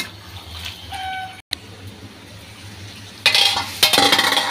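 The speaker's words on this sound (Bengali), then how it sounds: "এবার এটা আমি এই মশলার মধ্যে ভালো করে কষিয়ে নেব" Pointed gourd sautéed in spices in a pan with beef kabab, a utensil scraping and clinking against the pan in short bursts over a low background hum, with a louder stretch of stirring near the end.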